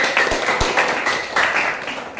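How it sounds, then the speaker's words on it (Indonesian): Applause from a classroom audience, a brief spatter of clapping that fills the short moment, fairly close and without talk over it. "beri tepuk tangan yang meriah"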